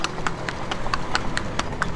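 Hooves of a working horse clip-clop in a steady, quick rhythm of about four strikes per second at moderate distance, with faint background noise and no talk.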